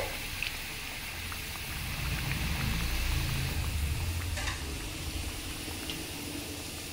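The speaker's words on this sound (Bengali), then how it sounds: "আস্তে রেখেই ভেজে নিতে হবে।" Chicken snacks fry in hot oil over low heat, a soft bubbling and low rumbling hiss that swells in the middle and eases off, with a couple of faint clinks, heard up close.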